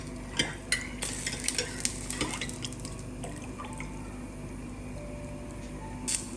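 Salted water is stirred in a pan with light clinks and scrapes of a utensil against metal, faint and close, with soft watery swishes and no talk.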